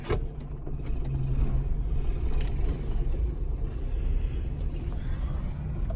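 A 1993 Dodge Caravan with a 2.5 engine and five-speed manual pulls away without throttle, producing a low, steady rumbling engine hum at a moderate level, with no talking.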